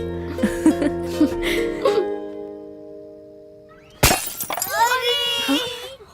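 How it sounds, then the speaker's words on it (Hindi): A glass window shattered by a ball, a sudden sharp breaking crash halfway through, following music and quiet, with voices reacting right after. "कितनी बार समझाया है, फिर से कांच तोड़ दिया तुम लोगों ने।"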